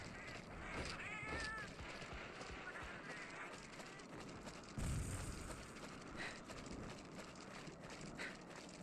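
A wild Palico cat meows faintly in Monster Hunter 4 Ultimate, buried in dense game music and effects while a person talks over the mix.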